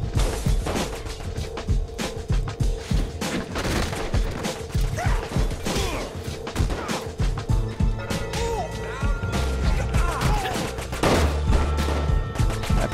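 Rapid, dense gunfire rattles continuously in the video game Saints Row IV, with bursts of automatic shots, crashes and booms layered under occasional talk.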